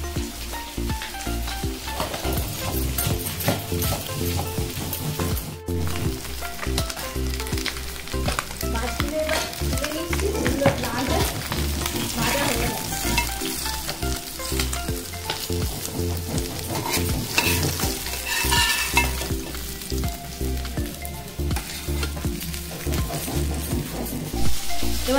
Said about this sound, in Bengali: ভাজা শুরু হয়ে গেছে